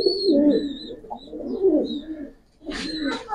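A pair of Pakistani high flyer satin pigeons coo softly and repeatedly at close range, low burbling calls rising and falling over a few seconds, with a brief pause before another burst.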